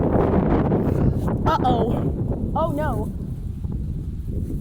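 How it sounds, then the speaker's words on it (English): A strong, cold wind gust of about 20 miles per hour buffets the microphone with a loud, continuous roar lasting the whole moment, while a person briefly exclaims over it. "I think that was like a 20-mile-an-hour wind gust."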